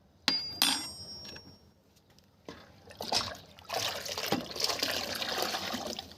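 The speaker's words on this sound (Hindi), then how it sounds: "इस 1 चम्मच चूना को मैंने करना क्या है, करीब करीब 10 लीटर पानी के अंदर मिला लेना अच्छी तरह से" Water splashing and trickling as a spoonful of lime is stirred into about ten litres of water for lemon plants, with sloshing bursts that grow steadier and louder toward the end.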